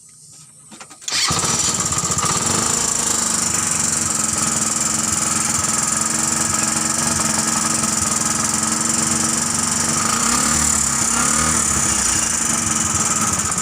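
A Suzuki Thunder 125 motorcycle engine fitted in a Carry 10 car cranks and fires, then runs at a steady, loud idle close by with a buzzy, uneven motorcycle tone.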